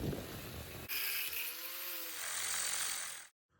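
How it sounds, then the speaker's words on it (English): A power tool cuts off the end of a solenoid bracket clamped in a vise, whining and buzzing steadily for about two and a half seconds before stopping abruptly, with a short harsher burst at the start. "We'll clamp it into the vise, and then we'll chop off this end right here."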